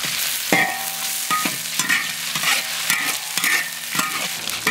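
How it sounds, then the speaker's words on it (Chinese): Minced ginger and garlic sizzle in hot oil in a wok while a spatula scrapes and tosses them in a quick, repeated rhythm. The sound is loud and close, with no voices. "我们把这个姜蒜末放进去，这爆上一下才香啊"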